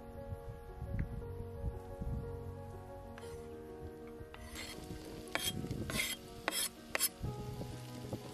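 Sliced onions, carrots and celery sweat in a pan with salted pork belly lardons, a faint soft sizzle broken by a few sharper crackles and stirring noises near the end.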